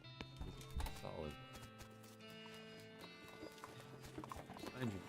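Horse hooves clip-clop in the West of Loathing video game, a few quick hoof taps among busy game sound effects and tonal music. Soft talk runs underneath at a low overall level.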